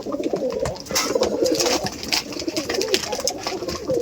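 Rajshahi Giribaz pigeons coo in a steady run of low, throaty, rolling calls, close by, over a rough background hiss with no voices.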